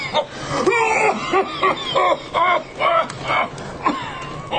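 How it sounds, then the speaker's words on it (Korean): An old man coughs in a quick series of harsh, throaty bursts, about six or seven close together, close and fairly loud. "노인은 더 심하게 기침을 콜록거렸고"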